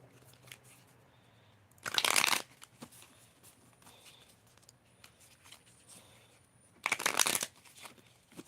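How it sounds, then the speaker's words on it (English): A brand-new tarot deck being shuffled, two loud bursts of riffling cards about five seconds apart, with quiet rustling and handling in between. "Sorry if the shuffling is loud."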